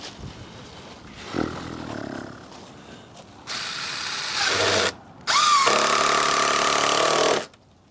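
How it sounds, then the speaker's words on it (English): Power drill driving toe screws into a wooden shed ramp, in two loud sustained whirring bursts after quieter handling noise, close to the microphone with no talk. "Putting the toe screws in."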